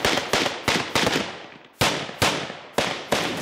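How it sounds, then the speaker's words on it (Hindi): Commandos fire rifles during an assault drill: eight or so loud, sharp single shots ring out at uneven intervals, each followed by a short echoing decay, with no talking. "रणनीति के तहत एक आगे फायर करते हुए बढ़ता है तो दूसरा उसे कवर फायर देता है।"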